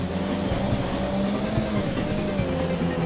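A race car engine in a driving game drones close and loud with a pitch that wavers and dips as it downshifts, and tire noise and rumble run underneath throughout.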